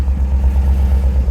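A 2011 GMC Yukon with a Vaolent cold air intake idles after start-up, a loud, steady low engine rumble with a slight rhythmic throb throughout.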